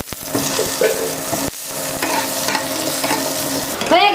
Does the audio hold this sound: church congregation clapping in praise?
no